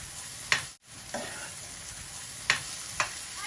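Chana and chicken are reheated in a pan, with a steady close sizzle and a few scraping strokes of a spoon stirring the food against the pan.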